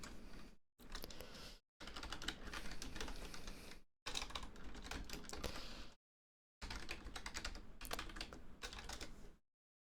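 Rapid typing on a computer keyboard in bursts of steady clicking separated by short silent pauses, close and fairly loud, with no talking.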